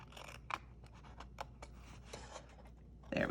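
Paper cardstock being trimmed and angle-cut by hand for a DIY gift card holder, giving several short, close snips and scraping strokes spread across a quiet room, with a louder rustle at the end.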